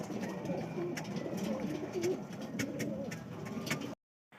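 Racing pigeons coo softly in a loft, repeated low throaty calls close by with faint clicks and rustles in the background.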